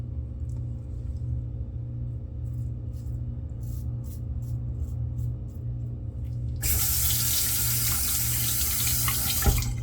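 Water runs into a bathtub for a rinse. A quiet low hum comes first, then the tap opens and a loud, steady rushing flow continues to the end.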